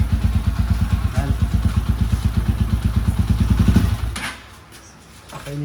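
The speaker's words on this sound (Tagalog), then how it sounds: "tahimik mga boss yung ating makina no" An overhauled motorcycle engine idles close by with a steady, even chugging pulse for about four seconds, then drops away into quieter low rumble before picking up again at the end.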